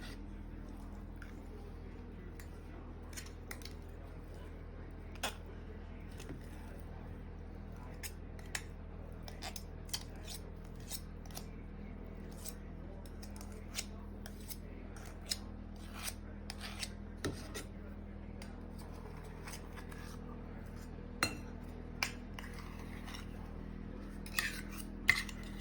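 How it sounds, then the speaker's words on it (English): A fork cuts shortening into biscuit dough in a bowl, giving soft scraping and rubbing with scattered light clicks of metal against the bowl over a quiet kitchen hum. The sound is faint and close, with no talking. "and then you cut it in with a fork"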